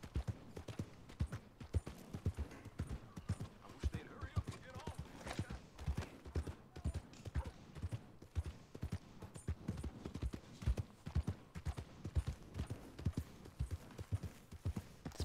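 Steady horse hoofbeats clip-clop in a regular rhythm throughout, fairly quiet, with a few scattered louder knocks, in the video game Red Dead Redemption.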